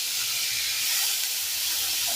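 Onions fry in hot oil with cumin seeds for an egg curry, giving a steady, close sizzling hiss that holds evenly throughout.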